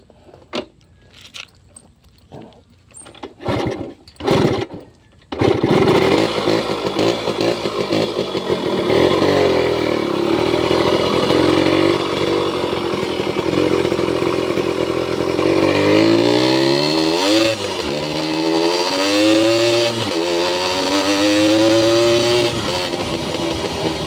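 A Yamaha RS100 cafe racer motorcycle is kicked over a few times with short bursts, then its two-stroke engine catches and runs loud and steady nearby, revving up and down near the end.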